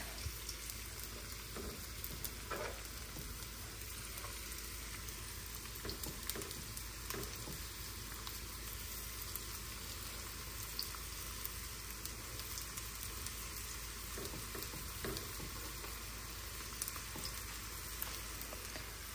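Chopped garlic fries in a pan for a Singaporean-style chili crab, giving a faint, steady sizzle with scattered soft crackles and pops throughout.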